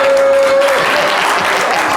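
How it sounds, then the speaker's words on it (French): An audience at a live show with the group Magic System gives loud, close, continuous applause, with a brief sustained tone over the start before the clapping fills in on its own. "Rapidement, on peut l'applaudir."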